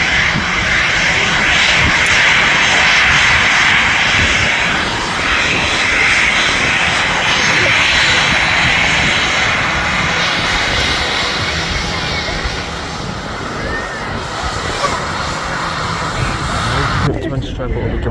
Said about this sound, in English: out there is your Singapore Airlines Singapore Airbus A350 to Singapore